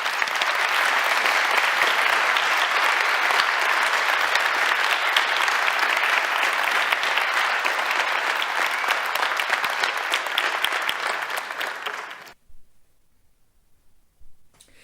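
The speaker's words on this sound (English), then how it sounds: "Do give them a round of applause." Loud, sustained audience applause as two speakers are invited onto a stage for an evening talk, continuing evenly for about twelve seconds before cutting off abruptly into near silence.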